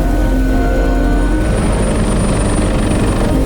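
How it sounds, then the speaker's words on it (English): A helicopter's loud, continuous rotor roar fills the clip, steady and close, with no voices. "When the helicopter came in"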